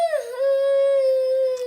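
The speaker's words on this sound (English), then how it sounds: "I can't howl right now, Mickey." A single dog's howl, one long sustained rising-then-steady tone with rich harmonics, close and loud, held without break and with no talking over it.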